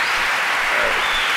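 Loud, sustained applause from a studio crowd, dense continuous clapping close by with no talking over it.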